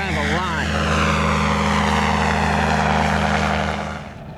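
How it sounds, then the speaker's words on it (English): Light propeller aircraft making low practice landings over the runway at Zephyr Hills, a loud steady engine drone close by that fades slightly toward the end. "doing some practice landings, flying low to the runway"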